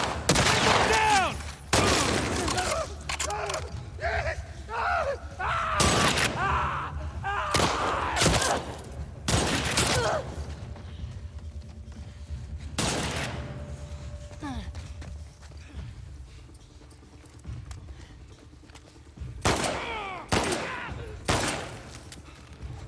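Video game gunfire in The Last of Us Part II comes as loud, sharp shots in scattered bursts, with footsteps and other game sounds between them and a person talking over the action.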